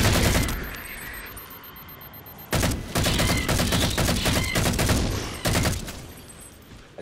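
Hip-fire gunfire in Halo 4: dense, loud volleys of rapid shots roll almost continuously, dip briefly into a quieter stretch, then return as heavy sustained fire.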